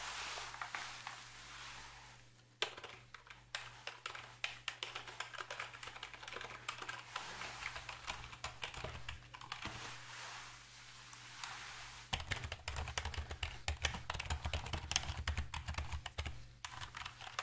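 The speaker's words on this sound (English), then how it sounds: "A keyboard." Steady typing on a computer keyboard goes on for a long stretch, with dense, close clicking keystrokes that grow slightly louder and fuller toward the end, with no talking.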